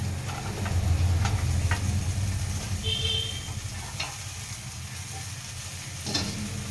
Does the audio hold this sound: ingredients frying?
yes